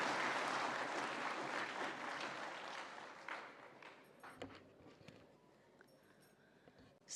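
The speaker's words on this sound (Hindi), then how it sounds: "जोरदार तालियों के साथ स्वागत" Dense applause from a crowd, loud at first and then thinning into scattered claps that fade out toward the end.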